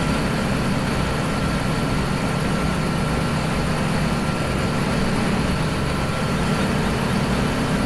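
A modded tractor engine in Farming Simulator 17 drones continuously, a loud, steady low rumble with a constant mechanical hum and no breaks or talk.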